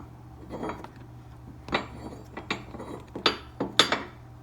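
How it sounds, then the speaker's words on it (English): A D-ring being screwed onto a 2021-23 Ford Bronco bumper, heard as close, irregular metallic clicks and threaded scraping that grow sharper toward the end, over a low steady hum. "You just put it on and screw it in."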